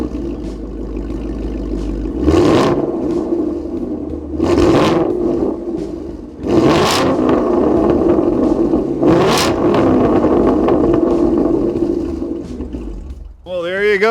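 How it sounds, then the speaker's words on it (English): A 2016 Ford Mustang GT V8 revving through a Corsa exhaust, four loud rising blips that each swell and fall back to a burbling idle, spaced a few seconds apart and close by. "I'm gonna rev that nice sounding Corsa exhaust system so you can hear some wonderful V8"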